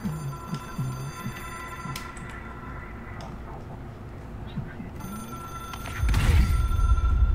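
An in-game telephone rings in the video game Control, a steady bell-like trill over low ambient hum, with a louder rumbling burst near the end.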